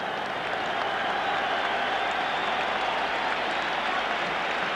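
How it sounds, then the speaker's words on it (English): A football stadium crowd at a 1984 World Cup qualifier between Ireland and the USSR gives a substituted player a sustained, dense round of applause, loud and steady throughout without a break. "the crowd give him a rousing round of applause"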